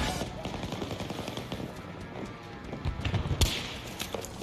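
Gunfire in a shooting video game lands a headshot: rapid bursts of shots crackle over a busy background, with a sharper, louder crack near the end, and a voice speaking faintly underneath.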